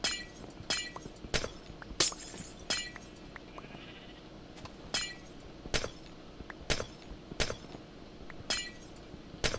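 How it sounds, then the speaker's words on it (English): A steady series of about a dozen Minecraft glass blocks breaking, crisp shattering cracks in an irregular quick rhythm, with faint animal bleats from a farm nearby in the game scene between breaks. "we'll break all of this glass here"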